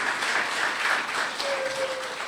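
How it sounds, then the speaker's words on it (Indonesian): Church congregation clapping at a Christmas service, a short continuous wash of many hands filling the hall with faint voices beneath. "Beri tepuk tangan buat Tuhan Yesus."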